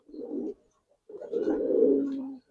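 Pigeons at a pigeon sale give two close, low cooing calls, a short burst followed by a longer throaty coo after a brief pause, with no voices.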